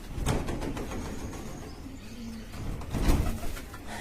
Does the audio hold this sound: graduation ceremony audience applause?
no